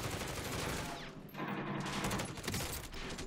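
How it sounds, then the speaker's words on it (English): Rapid automatic gunfire in a zombie royale video game, dense continuous bursts that briefly dip before resuming, loud and close throughout. "Could you shoot him, Siopa?"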